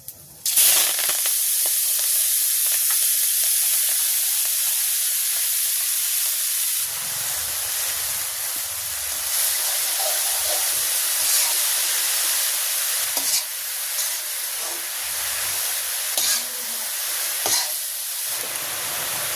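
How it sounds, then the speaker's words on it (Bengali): Tender greens with a few radhuni seeds frying in hot oil in a village kitchen, giving a steady close sizzle and hiss with occasional stirring scrapes throughout. "তেল গরম মিক্সে শাকটা দিয়ে দিই।"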